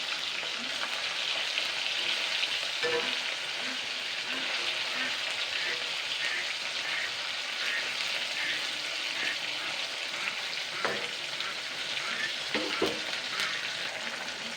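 Fish fry in hot oil with a steady, broadband sizzle and crackle that holds at close range throughout, with a few brief louder pops and stirring clatters along the way.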